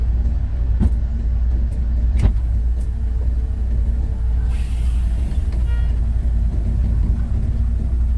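A bus backing out of a repair shop after an engine support replacement; a steady low engine rumble and idle drone runs throughout, with a few faint clicks and knocks on top and no talking.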